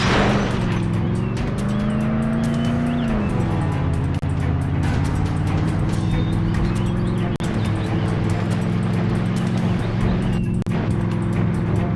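A car driving in the video game Call of Juarez: The Cartel, a loud steady engine drone with a pitch shift as it shifts gear, continuous and close throughout.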